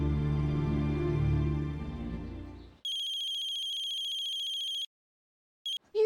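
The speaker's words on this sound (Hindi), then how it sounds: "अरे कब से फोन बज रहा है, उठाती क्यों नहीं?" A low murmur fades out, then an electronic phone ringtone trills steadily for about two seconds, pauses, and briefly starts again.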